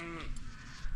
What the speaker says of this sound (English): Oh, look at those sheepies.